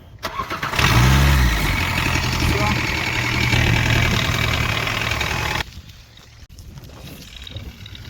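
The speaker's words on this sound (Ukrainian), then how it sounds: "Продемонструю вам, як заводиться дизельний двигун на цьому тракторі." A farm tractor's diesel engine cranks and catches with a loud low rumble, then settles into a steady, close idle before the level drops sharply near the end, leaving a quieter hum.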